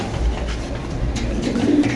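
Lahori pigeons coo in low, soft, repeated calls, close by, with faint rustling and background noise around them.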